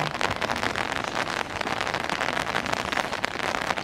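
Steady, dense rain pours down with a continuous hiss, close and fairly loud, with scattered drops pattering on a surface and no voices.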